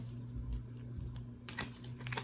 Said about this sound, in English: Give this a little shuffle.